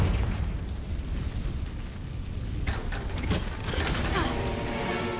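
A Confringo spell explosion in Hogwarts Legacy erupts as a crackling burst over a dense, noisy rumble, followed by fizzing debris-like sparkle as the blast dies away.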